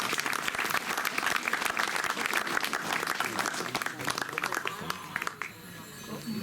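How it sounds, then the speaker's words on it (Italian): An audience applauds Marcella Bandino at an evening gathering honouring a poet: dense, continuous clapping from a crowd that holds steady for about five seconds, then thins and tapers near the end. "Un applauso a Marcella."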